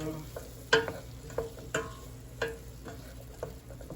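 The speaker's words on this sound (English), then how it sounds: "let mine saute until the onions are see-through and the bell pepper is soft" Onions and bell pepper saute in a pan over a slightly raised flame, for dirty rice from a box mix: a soft steady sizzle broken by several sharp scraping stirs of a utensil against the pan, close up with no talking.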